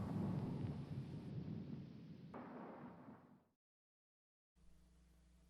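A deep rolling thunder sound effect rumbles loudly, then fades into a brief silence before a quieter low rumble resumes.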